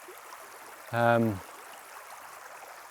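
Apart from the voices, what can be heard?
flowing river water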